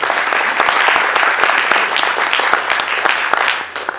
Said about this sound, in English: applause to the panel, please